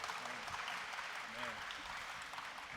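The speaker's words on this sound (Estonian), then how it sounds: "See on ilus, võite laulude vahele ka plaksutada" Faint, steady audience applause fills a festival worship service, a continuous patter of many hands at a distance.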